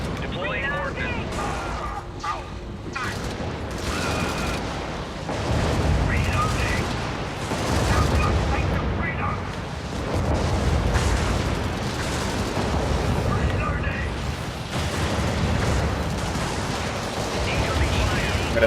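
Video game battle against Illuminate forces: dense, continuous gunfire and heavy booming ordnance explosions rumble throughout at high volume, and a voice talks intermittently over the combat.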